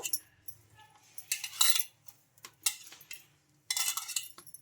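A soft dough is mixed with boiled, cooled milk in a bowl, heard as uneven bursts of scraping and clinking of a utensil against the bowl with quiet pauses between, no voices.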